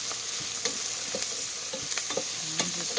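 A tablespoon of minced jarred garlic sizzles in hot oil for minestrone soup, a steady moderate frying hiss broken by a few soft stirring scrapes, with no one talking.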